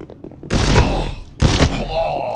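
Bursts of gunfire from the Mamba gun in the mobile shooter Guns of Boom, two loud dense volleys of rapid shots separated by a short pause, close and punchy.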